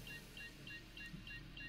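In the space game Star Citizen, a repetitive electronic alert beeps in a steady rhythm, about six double-tone pulses evenly spaced over a low ambient hum, faint and persistent.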